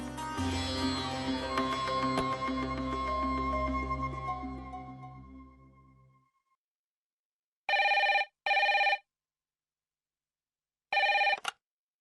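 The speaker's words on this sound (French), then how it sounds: "Oh, Dieu merci, Payal, tu as répondu au téléphone." Background music fades out, then after a pause a telephone bell rings in two separate double-ring bursts, loud and clear, in a scene from a French-dubbed TV drama series.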